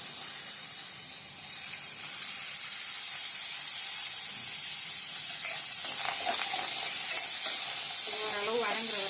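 Tomatoes and small shallots frying in a little oil give a steady, loud sizzle and hiss that swells after the first couple of seconds, with faint stirring scrapes near the end.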